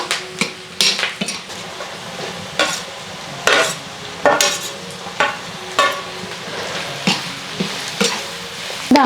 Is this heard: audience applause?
no